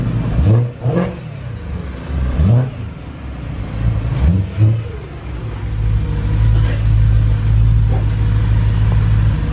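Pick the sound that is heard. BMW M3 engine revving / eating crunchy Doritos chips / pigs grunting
BMW M3 engine revving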